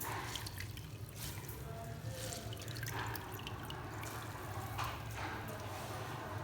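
Raw potatoes for a mixed nimko snack being dipped into a bowl of cold water, with soft splashes and trickling water throughout and a few brief drips.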